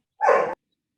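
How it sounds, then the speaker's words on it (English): A single short dog bark, loud and close, rings out once in an indoor room and then stops. "Oh, sorry, I have a dog."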